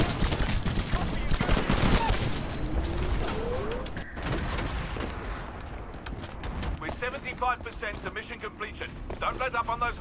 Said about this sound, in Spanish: Están sonando disparos en C.